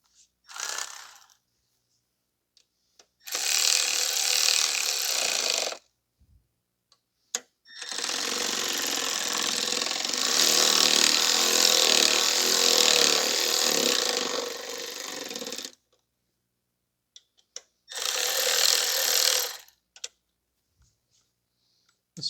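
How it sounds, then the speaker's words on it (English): Ratchet tightening valve cover bolts in a crisscross pattern on a 2014 Chevrolet Sonic 1.8, heard as three separate spells of rapid, close clicking, the middle one longest, with quiet pauses between. "I'm going to tighten them down uniformly in a crisscross"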